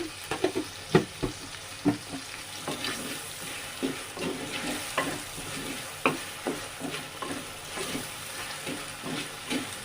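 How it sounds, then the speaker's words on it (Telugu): Onions sizzling in a pan with salt added, a spoon stirring and clinking against the pan in quick, uneven strokes, close by with a soft hiss underneath and no voices. "కొద్దిగా ఉప్పు వేసుకుంటున్నాను ఈ ఆనియన్స్ అయితే వేగడానికి"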